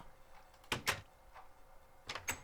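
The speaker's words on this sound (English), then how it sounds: "check out this awesome magic door. It closes by itself." Self-closing magic door in modded Minecraft, two pairs of quick sharp clunks as it shuts and opens again, close and fairly loud over a quiet background.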